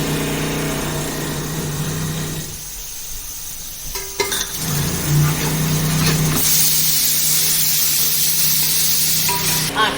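Ginger paste sizzling in hot oil while boti biryani is cooked, with stirring scrapes and a brief quieter dip before the frying hiss swells back loudly.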